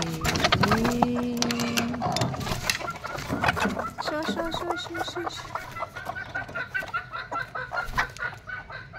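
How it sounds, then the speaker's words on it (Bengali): Village chickens cluck and squawk in a yard before feeding, busy overlapping calls up close with a brief crow-like note early on and a person speaking among them. "এই যে মুরগিগুলা,"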